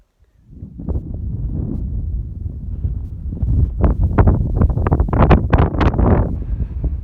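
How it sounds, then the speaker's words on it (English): Gusty wind buffeting the microphone on a high Colorado Trail mountain path, rising from a low roar into loud, irregular surging blasts that grow stronger toward the end. "if you can hear me in all the wind"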